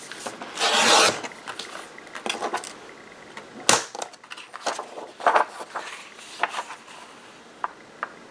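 A paper cutter slices through several sheets for a travelers notebook insert, with a loud rasping swipe at the start, then sharp cuts and scattered rustles and taps of handled paper nearby.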